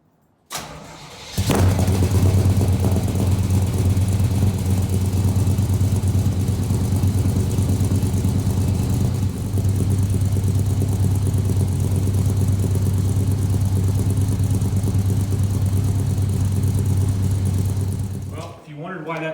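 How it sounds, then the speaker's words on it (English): A Chevrolet C10 truck engine fires up and settles into a loud, steady idle running on only seven cylinders, a continuous low rumble close by that holds for most of the stretch before cutting off. "Damn thing was running on 7 cylinders."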